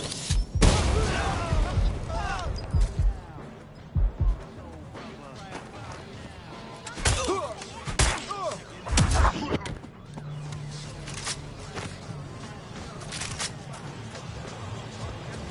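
Gunfire in Watch Dogs Legion, with scattered loud shots and short bursts recurring irregularly amid combat noise, with voices shouting briefly in between.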